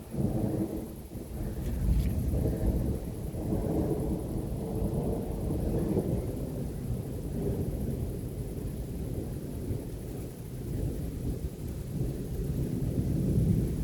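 A summer thunderstorm over the Kyiv region: steady, loud rain and continuous deep rumbling thunder fill the whole stretch, with a sharper crack near the start and no voices.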